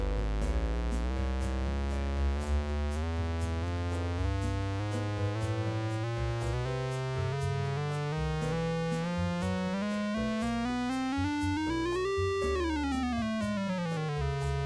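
A Runner pitch effect steps between quantized notes, a buzzy synth tone climbing in distinct stair-step jumps, then sweeping up to a peak and falling back, loud and continuous with no voice.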